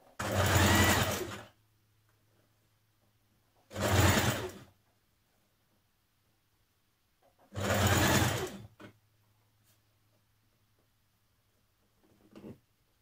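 A sewing machine stitches a seam on a top in three separate bursts of about a second each, with a short final whirr and near silence between runs.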